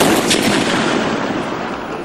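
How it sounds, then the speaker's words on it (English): A .50 caliber sniper rifle fires a single loud, close blast on a range, and its broad rumbling echo fades over about two seconds. "50 caliber rifle is being tested in Afghanistan and evaluated at the school."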